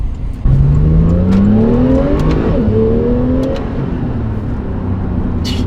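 A four-wheel-drive Porsche 911 accelerates hard, its engine note climbing steadily through rising revs as it pulls. The sound is loud and continuous, with a slight drop in intensity toward the end.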